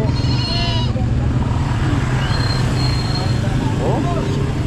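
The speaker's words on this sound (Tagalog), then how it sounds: "Ani din naman yung mga kanding." Goats bleat at an outdoor Saturday market, a few calls rising over a steady din of crowd chatter and passing road traffic, with people talking throughout.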